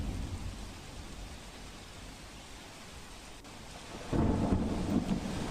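Heavy rain falls in Patan district, Radhanpur and Santalpur, a steady dense hiss of downpour with a faint distant rumble, swelling abruptly louder near the end.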